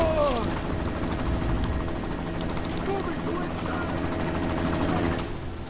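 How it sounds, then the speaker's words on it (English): A helicopter in the video game Deus Ex: Mankind Divided thrums steadily amid bursts of gunfire and game noise, with voices talking over the din. "You've got to stop that chopper."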